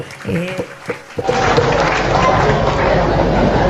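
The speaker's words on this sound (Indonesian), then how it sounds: "Tepuk tangan lagi." A school anniversary talk show pauses as a voice speaks briefly, then the audience bursts into a dense, steady round of applause that carries on loudly to the end.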